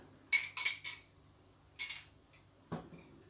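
A large spoon clinks against a coffee brewing glass used for traditional Thai-style coffee, giving a few quick bright taps in a short cluster, then a lone tap and a duller knock, close up in a quiet room.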